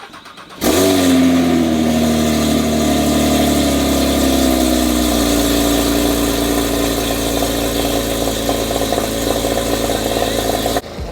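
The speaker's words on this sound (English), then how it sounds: "Let me start this thing up here. True cold start." A supercar engine fires up from a true cold start with a sharp burst, then settles into a loud, steady, rumbling high idle that eases slightly lower partway through, close and alone.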